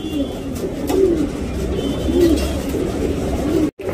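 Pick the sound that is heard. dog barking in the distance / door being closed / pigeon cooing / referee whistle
pigeon cooing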